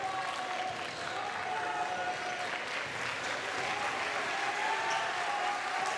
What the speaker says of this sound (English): Milford crowd trying to make some noise.